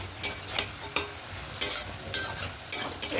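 A fish-head and spinach curry is stirred in a pan, giving a series of quick scraping strokes in irregular bursts over a low simmering sizzle, close and fairly loud, with no one speaking.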